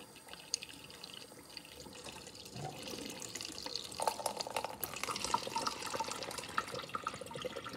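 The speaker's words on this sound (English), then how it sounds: "Let's fill my measuring cup with water." Tap water runs into a measuring cup, starting faint then growing louder and splashier as the flow strengthens, with small drips and clinks close by.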